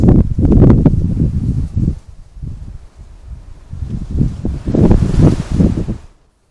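Gusty wind outdoors by a pond, buffeting in loud uneven surges with rustling and a brief lull in the middle, close and rough against the microphone.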